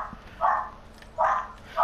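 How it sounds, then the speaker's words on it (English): Three short, evenly spaced barks from a dog in a video game, somewhat muffled and synthetic-sounding, with quiet background between them. "I like that barking sound."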